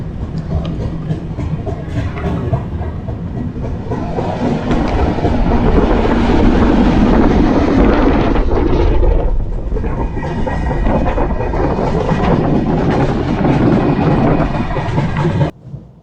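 The Shalimar Trivandrum Express runs on the rails with a loud, continuous rumble and rattle of wagons, steady clatter swelling in the middle and cutting off sharply at the end.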